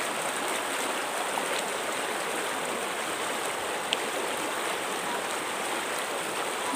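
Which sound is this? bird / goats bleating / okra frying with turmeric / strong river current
strong river current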